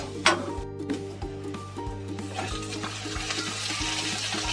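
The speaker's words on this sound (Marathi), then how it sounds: "कांदा थोडा चांगला परतू दे. भाजून घेते चांगलं." Onion fries and crackles in a pan for a vegetable dish of Chinese okra, a steady close sizzle with occasional stirring scrapes, no talking.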